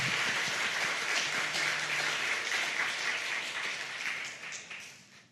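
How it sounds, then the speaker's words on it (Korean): A church congregation applauding to encourage children during a Sunday service, a steady wash of many hands clapping together that fades out at the end. "함께 격려의 박수 함께 드리겠습니다"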